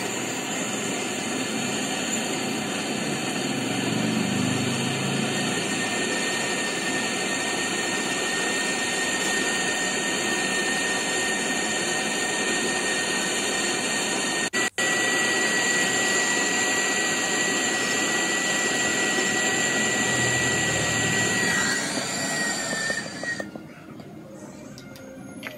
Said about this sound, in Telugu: క్యాప్లర్ కూడా వెల్డింగ్ చేసుకుంటాం.